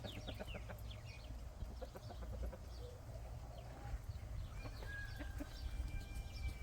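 Several chickens cluck and squawk nearby, a busy, restless chorus of short calls against faint outdoor background noise.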